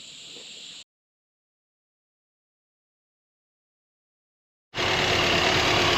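A Land Rover engine runs with a steady, rough idle, cut off abruptly and then returning loud after a long silent gap.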